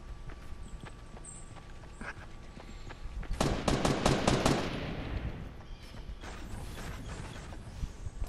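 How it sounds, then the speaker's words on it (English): Rapid burst of gunfire in the Fortnite battle royale game, a fast string of sharp shots in the middle of the clip amid ambient game sounds, fairly close and loud, with no talking. "Is that one of you guys that just shot?"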